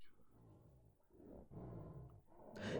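A lion roars in low, rumbling swells that rise and fall in two long bursts, followed by a brighter noisy flourish, heard fairly quietly with no talking.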